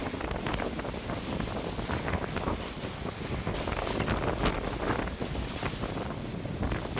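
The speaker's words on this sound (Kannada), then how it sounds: "ಈ ಬಿರುಗಾಳಿ ಸುನಾಮಿ ಬರೋ ಥರ ಆಗ್ಬಿಟ್ಟೈತೆ." Loud, strong wind at Kotebetta in Coorg roars and buffets the microphone without letup, with gusts surging throughout and no voices.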